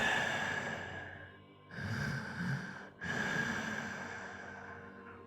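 A masked creature breathes heavily in an audio drama, with three slow, close, rasping breaths separated by short pauses. The breaths are fairly quiet and there is no speech.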